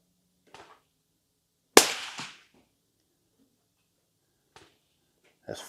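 Sharp rifle reports from a Ruger American in 300 Blackout fitted with an MDT Fieldstock, fired at 100 yards: a loud nearby crack with a brief decay, then a few fainter clicks and a second shot at the end.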